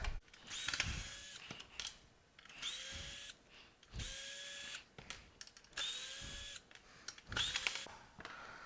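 A power screwdriver undoes screws on the auto pulse part of an ASL 110V LPAP auto-pulsing vacuum. Four or five whirring bursts of about a second each, each rising in pitch, come close and clear between short pauses.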